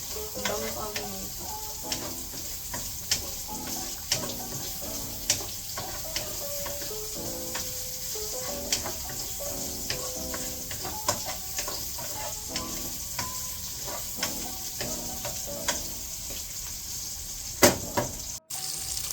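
Topping ingredient for carbonara sizzles and fries steadily in oil in a pan, with frequent stirring clicks and scrapes of a utensil throughout, close and continuous, no talking.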